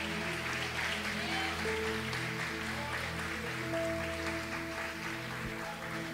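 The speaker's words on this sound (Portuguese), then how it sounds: "Você pode aplaudir o Senhor?" A congregation at an online church service applauds, a continuous wash of clapping blended with sustained music and voices throughout.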